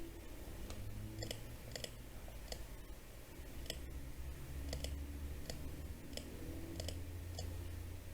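Computer keyboard typing during setup of a Moonbeam blockchain node in Docker, with bursts of quick, uneven key clicks over a steady low background hum.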